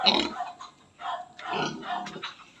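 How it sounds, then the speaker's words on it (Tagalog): A large sow grunts and snorts in a few rough bursts close by, with short pauses between, against faint outdoor background. "may baboy na malaki inahin yan inahin"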